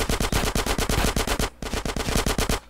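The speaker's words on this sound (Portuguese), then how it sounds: "Os caras estão atirando pra trás ali" Rapid automatic gunfire rings out in GTA San Andreas during a hotel shootout, a loud, dense stream of repeated shots in two bursts with a brief gap between them, and no talking over it.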